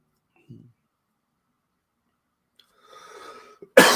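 A loud, harsh cough bursts out at the very end, after a faint throaty sound and some quiet rustling.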